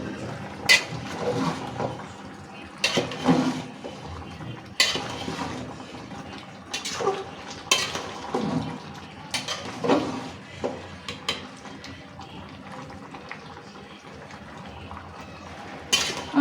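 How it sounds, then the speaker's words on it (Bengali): A ladle stirs meat in a cooking pot in a home kitchen, making repeated scraping and clattering strokes against the metal at irregular intervals, with faint liquid sounds underneath and no talk. "হ্যাঁ, গোস্ত লাড়া দিই।"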